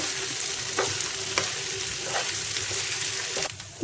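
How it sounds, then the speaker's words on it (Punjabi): Rice and peas fry in a pot for matar pulao while a ladle stirs them, giving a continuous sizzle broken by regular scraping strokes about every half second, close and fairly soft. "ਇਧਰ ਚੌਲਾਂ ਨੂੰ ਪਾ ਦਾਂਗੇ ਜੀ ਇਹਨਾਂ ਮਟਰਾਂ ਦੇ ਵਿੱਚ ਕੜਛੀ ਨਾਲ ਹੁਣ ਆਪਾਂ ਇਹਨੂੰ ਹਿਲਾ ਦਾਂਗੇ"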